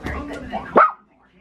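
A dog gives a single short bark right after some brief nearby talking, then falls quiet.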